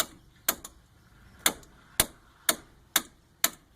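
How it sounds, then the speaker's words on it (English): Impact wrench loosening strut bolts on a van's front suspension, sounding as six sharp, separate bursts spaced about half a second apart, fairly quiet with faint rattling between them. "that is how I impact to get these bolts to break loose"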